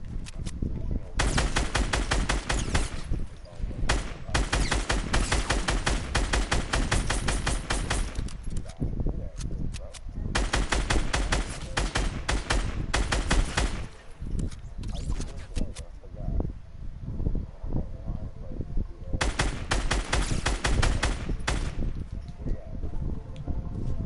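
Bursts of rapid automatic gunfire from the video game Fortnite rattle loudly in long repeated volleys, separated by brief pauses and scattered single shots, with a voice occasionally talking over the action.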